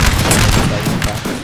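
Ragged musket volley in Napoleonic Total War, a loud crackling burst of many overlapping shots rolling together for about a second and a half, with a voice talking over it.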